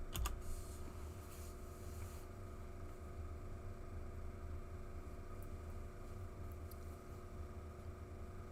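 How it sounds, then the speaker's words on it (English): Quiet computer keyboard typing during an online horse auction, soft scattered key clicks over a steady background hum, no voices. "I'm typing in sold."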